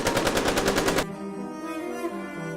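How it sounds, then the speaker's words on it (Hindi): Rapid machine-gun fire in a burst of evenly spaced loud shots, followed by a ringing echoing tail, portraying the 1979 siege of Mecca's Grand Mosque. "चारों तरफ से गोलियों की आवाज"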